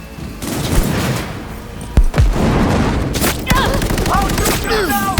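Dense gunfire and booming shots from the video game Cyberpunk 2077 rattle through a firefight, with voices shouting over the shooting.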